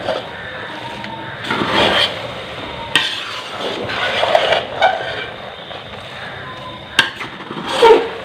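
Sweet jaggery rice with coconut, almonds and raisins is stirred and mixed in a pot, giving loud scraping and shuffling strokes with occasional utensil clinks against the pan.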